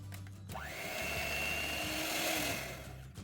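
Electric hand mixer beating plum cake batter after milk powder, vanilla and condensed milk are added, starting up after a short pause and holding a steady close whirring hum with a rising pitch before winding down.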